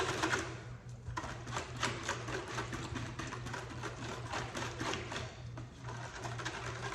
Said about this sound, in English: I am simply going to whisk it.